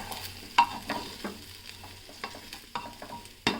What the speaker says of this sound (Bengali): এবার চাল ডাল আর সবজিগুলো দিয়ে আরও দু মিনিট একটু নেড়ে ছেড়ে ভেজে নিতে হবে